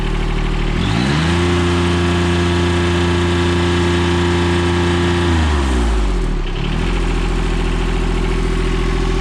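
A John Deere F935 front mount mower's Yanmar diesel engine throttling up from idle to a steady high drone, dropping back briefly near the end before revving up again, loud and close with no talking.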